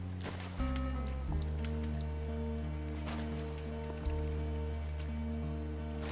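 A few splashes as objects are tossed into water in the video game Firewatch, short soft plops at irregular moments over a steady musical backdrop.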